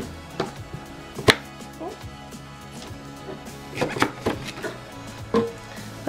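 Ginger being chopped into small pieces with a knife on a board, a handful of sharp, irregular cuts with pauses between them, close by and moderately loud.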